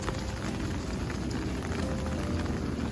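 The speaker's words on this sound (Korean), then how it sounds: "오늘 아침부터 비가 내리네요." Steady rain falling on a morning, a dense, even hiss of drops on surfaces that continues without pause at a moderate level.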